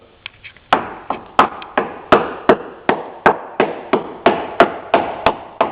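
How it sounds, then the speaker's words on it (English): A small hammer taps the bottom of a boat hull in a steady series of about a dozen sharp, ringing knocks, close and loud, evenly spaced. "All you want to do is be able to tap the bottom of the boat."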